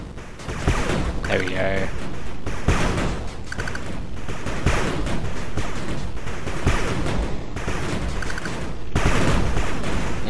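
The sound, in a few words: gunfire attacking headquarters in the video game 8-Bit Armies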